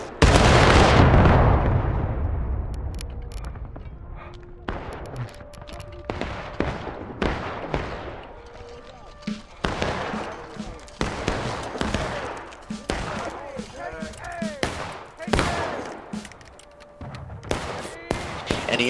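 A massed musket volley roars out at once in the Civil War game War of Rights, followed by scattered gunshots and distant firing cracking near and far for many seconds.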